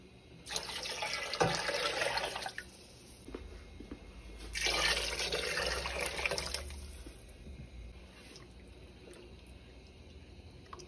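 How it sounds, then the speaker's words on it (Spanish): Water pours into a pot of simmering albondigas soup in a home kitchen, two splashy bursts of a couple of seconds each, close and moderately loud, separated by a quieter pause with faint kitchen background. "vamos a echar un poquito más de agua"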